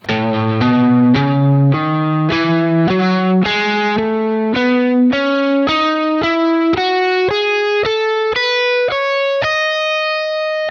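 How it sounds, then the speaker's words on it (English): Electric guitar with heavy distortion runs up an A Lydian scale, three notes per string, in an even stream of picked notes climbing steadily in pitch, loud and alone. "take a 3-note per string scale shape that you already know, like this A Lydian"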